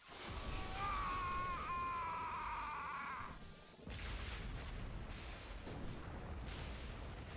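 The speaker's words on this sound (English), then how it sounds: "Explosion!" An explosion in Tales of Arise, a loud booming blast with a rising, tonal whine that breaks off abruptly into rumbling crashes and scattered debris impacts.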